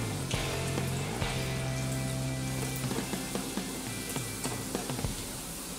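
Veg Manchurian balls fry in hot oil over a raised gas flame, giving a steady, close, fairly quiet sizzle with scattered crackles and pops throughout.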